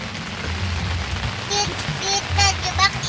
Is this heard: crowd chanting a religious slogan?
no